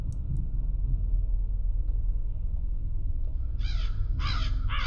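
Crows in the video game Finding Lil caw in a few loud, harsh bursts near the end, over a steady low rumbling game backdrop.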